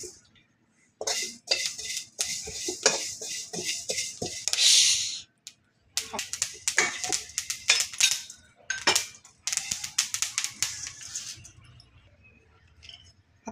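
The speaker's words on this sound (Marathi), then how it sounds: "आता आपण हे जवस थोडेसे भाजून घेऊयात." Flax seeds dry-roasting in a pan while being stirred, giving close, irregular bursts of scraping, rattling and light metallic clinks with short pauses between them.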